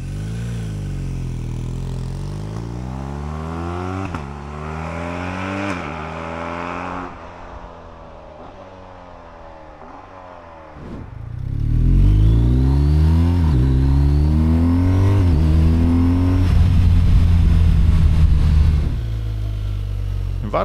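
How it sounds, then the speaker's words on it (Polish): A 2024 BMW R1250RT (K52) motorcycle engine pulls hard through the gears to around 5,000–6,000 rpm, its rising drone climbing in repeated sweeps with shifts between them and growing louder in the second half. "A zresztą sami zobaczcie, jak pięknie przyspiesza przy kręceniu zaledwie w okolice 5-6 tysięcy obrotów"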